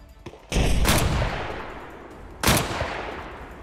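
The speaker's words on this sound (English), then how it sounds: "I should let you know I have a mod on that changes the gun sounds." Modded gunshots in the military shooter Arma Reforger: two loud, close blasts about two seconds apart, each with a sharp crack and a long echoing decay.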